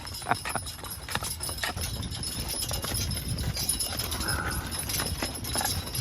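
Young team of Belgian horses pulling a wagon home, hooves clip-clopping in a steady rhythm close by, with faint wagon rattle and jingling harness underneath.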